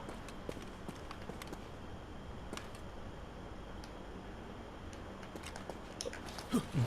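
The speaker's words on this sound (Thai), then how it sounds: "ได้ยินเสียงเท้าอีกอะ" Footsteps in the video game NARAKA: BLADEPOINT, faint rhythmic taps over low ambient game sound, growing slightly louder near the end.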